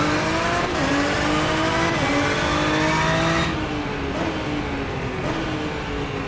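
Engine of a race car in the video game rFactor 2 roaring steadily with rising and falling pitch as gears shift, loud and continuous, then slightly quieter after a few seconds.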